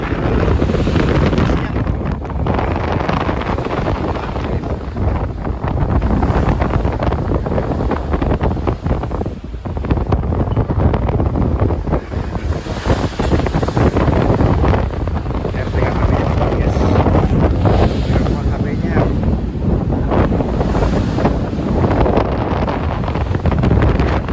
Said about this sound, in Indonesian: Anginnya kenceng, beneran suaranya kenceng anginnya.